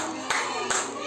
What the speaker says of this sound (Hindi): बजाओ ताली बेटा